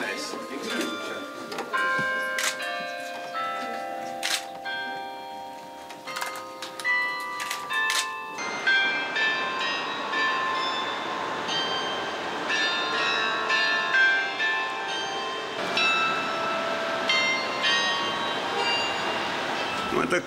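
Riga town hall bells ring out a melody in the old town, clear chiming tones over street ambience, with a voice talking beneath as the tune continues.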